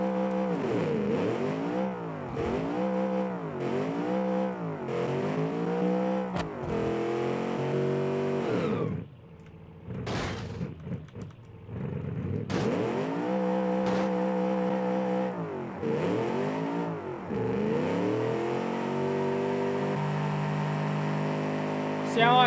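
A loud drag car engine revs hard through its exhaust in repeated rising bursts, drops briefly to a rough idle, then climbs back into sustained high revving.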